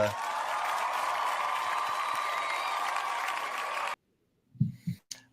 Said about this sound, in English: We got a round of applause for